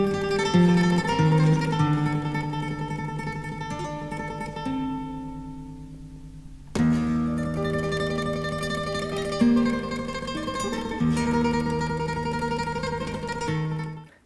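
Flamenco guitar plays a sustained tremolo passage in rondeña style, soft and close, with a bass line under rippling repeated treble notes and a restart midway.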